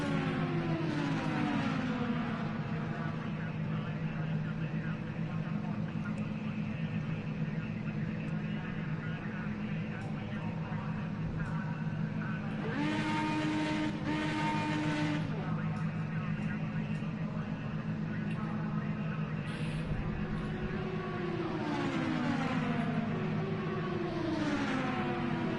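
Race car engines drone through a Project Cars 2 race at Lone Star, a steady mechanical hum with rising and falling gear-shift sweeps, under ongoing talk.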